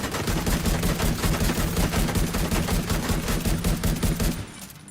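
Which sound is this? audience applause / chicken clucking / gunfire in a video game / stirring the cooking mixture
gunfire in a video game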